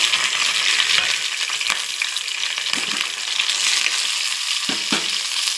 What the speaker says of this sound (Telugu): నూనె పోసుకోవాలి. జీలకర్ర, పచ్చిమిరపకాయలు, అలాగే ఎల్లుల్లిపాయలు.